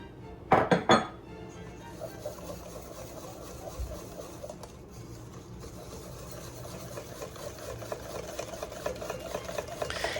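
A utensil scrapes and clinks against a bowl as sticky toffee pudding batter is mixed, with a few sharp clinks at first, then a steady soft stirring sound.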